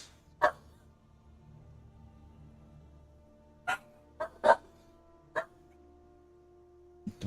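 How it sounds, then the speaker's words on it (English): Short barks from dogs in a Godot game project, five sharp bursts spaced irregularly over a quiet low hum, with one faint final yip at the end. "Dogs."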